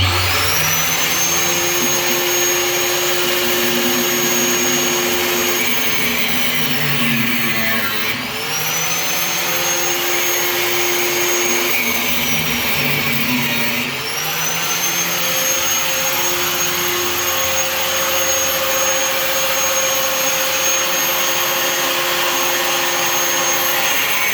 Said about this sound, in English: So we're going to use the angle grinder, steel blade, to cut off a piece.